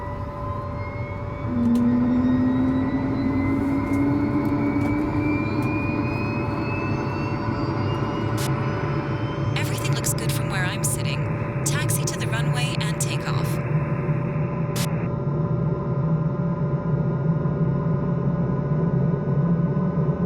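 Helicopter in Microsoft Flight Simulator 2024 starting its engine after the rotor brake is released, a steady turbine whine and low rumble rising and holding for the whole stretch, with brief clicks partway and a voice talking over it.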